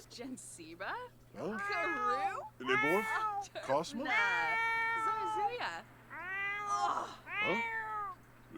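A cat in The Sims 4 meows repeatedly, a run of loud, close, drawn-out meows and yowls with short gaps between them, over a faint steady hum.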